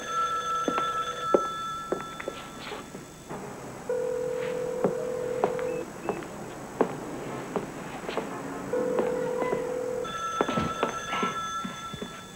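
An old telephone rings indoors in bursts of bright, trilling bell tones separated by short gaps, clear and fairly loud with no talking over it.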